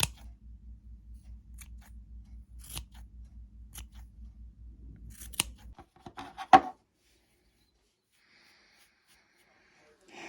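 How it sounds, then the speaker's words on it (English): Scissors snipping the yarn of a crochet pom-pom for a winter hat: a run of soft, rapid cutting clicks over a low background hum, followed by a few louder distinct snips and then near silence. "Now you can trim this pom-pom. So just trim a little bit."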